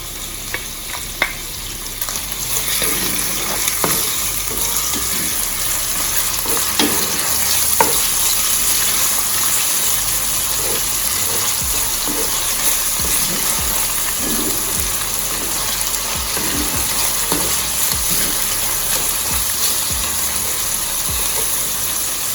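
Garlic, scallion and onions being stir-fried in a pan, a steady loud sizzle throughout with repeated scraping and stirring clatter, no talking.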